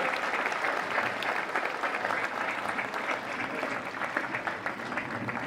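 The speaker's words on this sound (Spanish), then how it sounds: "Le damos un fuerte aplauso al señor arzobispo, por favor." A crowd at a church gathering for an archbishop in Chalchihuites applauds with dense, sustained clapping that stays steady and fairly loud throughout.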